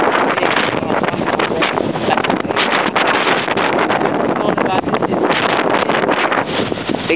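Loud, continuous wind from Hurricane Sandy roars and buffets the microphone for the whole stretch in Crown Heights, with no talking.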